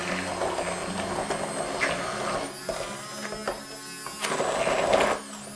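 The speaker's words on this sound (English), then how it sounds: "And now using this blender, we're going to mix our cheese." An electric blender mixes cottage cheese, sugar and raisins, a continuous whirring motor hum that shifts in pitch and load as the mixture churns, steady and close with no talk.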